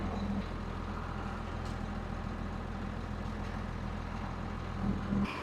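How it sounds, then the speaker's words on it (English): A dump truck runs with its PTO engaged to raise the dump bed, giving a steady low engine drone and hum with a brief hiss of air near the start and again at the end. "Let's go ahead and engage that PTO and use that dump."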